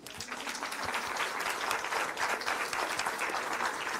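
Dense audience applause at a spiritual talk fills the room steadily, many hands clapping at once in a continuous, moderately loud wash with individual claps faintly standing out.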